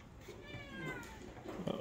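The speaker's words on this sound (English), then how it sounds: "Meow, meow, meow." A cat meows softly in one drawn-out call, quiet and close, inside a shop.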